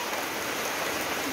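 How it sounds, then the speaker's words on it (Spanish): Rain falls steadily behind a house, a brief, even hiss of drops with no voices. "De cómo se mira la lluvia."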